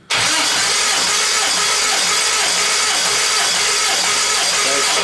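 Classic Mini engine cranking over steadily on the starter during a cylinder compression test, a loud continuous churning that begins abruptly and holds for several seconds without firing.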